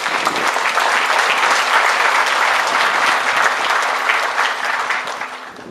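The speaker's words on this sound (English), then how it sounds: "Let's give Robbie a round of applause." A large crowd at a port grand opening ceremony claps warmly and continuously, loud and full, tapering slightly at the end.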